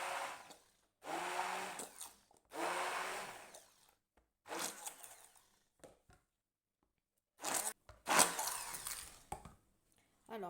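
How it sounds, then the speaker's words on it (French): An immersion blender mixes lemon cream with butter for a lemon meringue tart, whirring in several short bursts with silent pauses between, close by. "on va mixer le tout avec le mixeur plongeant pour avoir une crème bien lisse"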